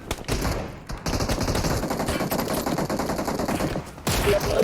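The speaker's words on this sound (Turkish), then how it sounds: "Aa mermi geliyor." Dense, continuous automatic gunfire from a PUBG Mobile battle plays loud and close, with rapid overlapping shots throughout and brief dips in intensity.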